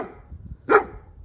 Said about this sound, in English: Reluctant dog.